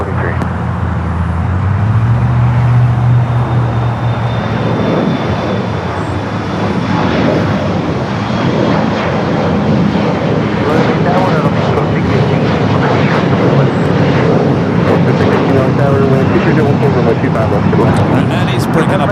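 A United airliner on its takeoff roll from runway 25 right at LAX, a loud steady engine roar filling the whole stretch, with voices talking over it.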